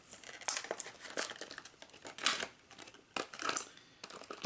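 Tape is ripped off a cardboard game box during an unboxing, giving a series of sharp crinkling and tearing bursts at close range with brief pauses between them.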